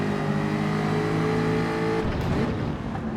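Race car engine in Gran Turismo 7 holds a loud, steady high-pitched drone, then shifts into a rougher, changing note as the car pulls through the first sector, with no voices.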